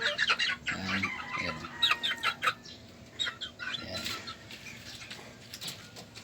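Young talisayin bantam chickens in a small backyard coop cluck and chatter nearby, with bursts of wing flapping and light shuffling throughout.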